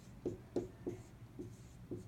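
Several short, scratchy strokes of writing on a board during a chemistry lesson, faint but close, coming in an even rhythm with no talking.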